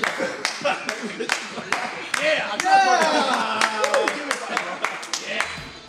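A person attempts a timed rhythmic hand-clapping challenge at a chocolate tour in Nicaragua. Sharp, loud claps come in a quick, fairly steady rhythm, with voices talking and exclaiming over them.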